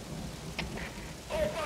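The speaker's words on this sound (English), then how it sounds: "now you notice it's started to rain" Rain falling at Mother Base in Metal Gear Solid V: The Phantom Pain, a steady hiss of rainfall with rumbling underneath and a few brief tones over it.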